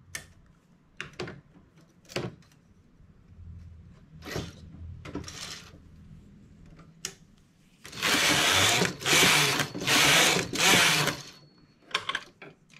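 A domestic knitting machine knits an ankle sock while stitch decreases are made on the sole. Scattered clicks and clacks of needles and parts lead to loud, close whirring carriage passes in rapid succession near the end.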